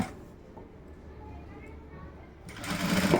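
A sewing machine stitches blouse fabric, its motor whirring faintly at the start and building to a louder run near the end, with someone talking over it.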